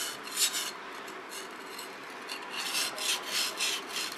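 A sashimi knife blade rasps back and forth across a whetstone in steady, close scraping strokes, with no voices.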